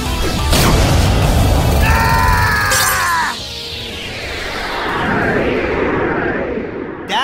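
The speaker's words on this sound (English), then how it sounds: "My monster attacks your life points directly." A monster's direct attack in the Yu-Gi-Oh! Duel Links card game lands as loud booming impacts and crashes, with whooshes and ringing tonal swells, then a second swelling sweep that fades into a sudden final hit.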